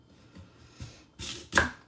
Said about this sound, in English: So again, I'm just going to dice this.